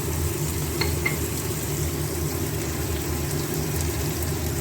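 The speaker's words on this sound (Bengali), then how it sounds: "পেঁয়াজটা ভাজা হচ্ছে" Onion frying in a pan with salt and turmeric added, producing a loud, continuous close sizzle that stays steady throughout, with one or two faint clicks.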